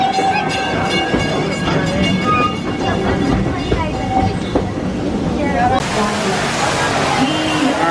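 Walt Disney World Railroad train at Magic Kingdom heard from aboard, steady rumbling and clattering wheels with rhythmic clacks and a loud hiss near the end, while a voice talks over it.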